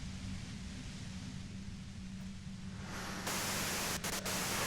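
Radio static hisses in Disco Elysium, a faint, steady wash of white noise under a low hum that grows brighter and louder near the end, broken by a few brief clicks.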